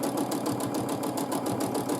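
A sewing machine stitches dense matchstick quilting lines on a quilted feather design, running in a steady, fast, even mechanical whir at close range with no talking.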